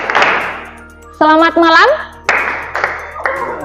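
Students in a classroom clap in short bursts, several loud, sharp claps at the start and then a few more separated by pauses. A voice speaks and a melodic ringing tone sounds in between.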